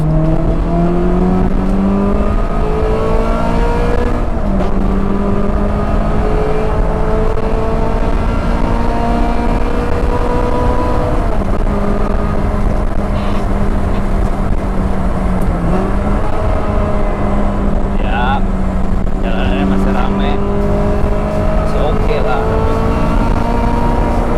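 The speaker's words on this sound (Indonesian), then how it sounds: "Nah ini gua mau tes ngegas dikit ya guys" A Ferrari F360 Modena engine drones loudly and continuously, its pitch climbing and dipping through gear-like rises around 4500 RPM, heard from inside the car with talk over it.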